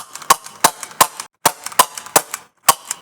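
A Rekt CO2-powered Nerf pistol fires a quick series of sharp, snappy shots in uneven bursts, about ten cracks close up with brief pauses between them.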